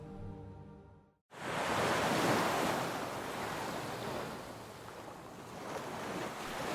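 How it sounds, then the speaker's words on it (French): Sea waves wash against a shore in a steady, loud roar of surf. A brief quieter passage comes first, then the dense, continuous rush rises and swells gently with no voices. "le son tumultueux de la mer qui lèche le rivage"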